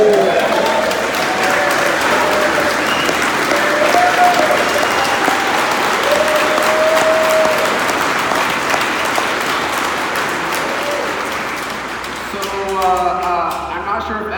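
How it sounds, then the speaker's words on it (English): A conference crowd at Bitcoin 2019 applauds loudly and continuously for Edward Snowden, the clapping thinning out before a voice speaks near the end. "can we give a huge round of applause for a freedom fighter?"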